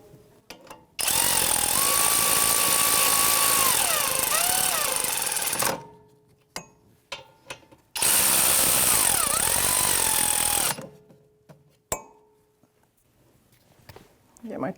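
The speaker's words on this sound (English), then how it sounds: "Gonna get my electric ratchet," Electric ratchet running down brake caliper bolts on a 2017-2022 Honda CR-V rear brake, two loud buzzing whirrs of several seconds each separated by quiet clicks and handling noises.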